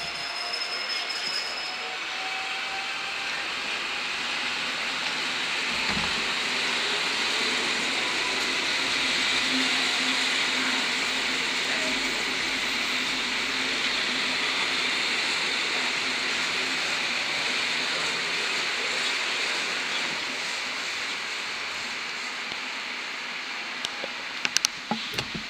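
A Koleje Mazowieckie train leaves Warszawa Zachodnia station with a long, steady rumble and rolling rail noise. Faint wheel squeals rise above it, and a few sharp clacks come near the end.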